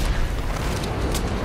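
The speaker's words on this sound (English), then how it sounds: "Dude, I love the sound of that gun." A single heavy gun blast in a video game, a deep booming report filling the whole short moment with a rumbling low-end tail.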